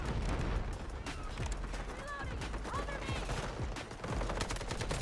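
AKM assault rifle gunfire in a shooting video game, with dense bursts of shots and explosion-like booms running steadily through the whole stretch, loud and close with busy game effects layered over it.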